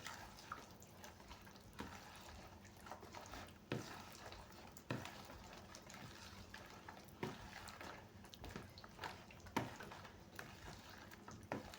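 Dough ingredients with vanilla are stirred and kneaded in a bowl for şekerpare semolina cookies. Soft, quiet scraping and squelching repeats steadily, with occasional sharper taps against the bowl.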